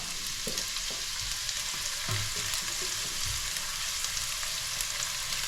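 Garlic hits a hot pan and fries with a strong, steady sizzle close by, with a few stirring knocks and scrapes, no talking.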